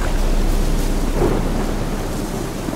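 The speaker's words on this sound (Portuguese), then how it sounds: "E essa chuvarada que não passa" Heavy rain pours down steadily in The Witcher 3 video game, with a deep, continuous rumble of thunder beneath it, loud and unbroken throughout.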